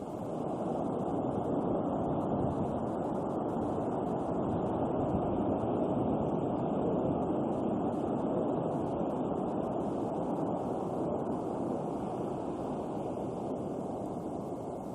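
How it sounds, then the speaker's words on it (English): Ocean waves breaking on a distant reef as Hurricane Luis approaches in 1995: a constant, dense roar of far-off surf mixed with wind buffeting the microphone, steady throughout with no voices. "you can see the waves breaking way in the distance on the reef"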